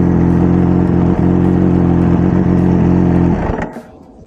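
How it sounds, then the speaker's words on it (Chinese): Benelli TNT899 three-cylinder motorcycle engine idling up close, a loud steady throbbing hum with slight uneven pulsing, cutting off abruptly near the end into quiet. "大家可能听起来怠速不太稳，但实际上怠速是非常稳的"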